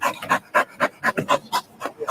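A dog pants rapidly and close up, with quick rhythmic breathy huffs at about four or five per second, steady and alone with no talking.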